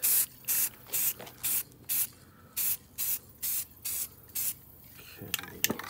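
Short bursts of flat black paint-and-primer spray from a $5 rattle can coat a Jeep Rubicon bumper, about ten even hisses with brief pauses between them, close and fairly loud, then a faint clatter at the end.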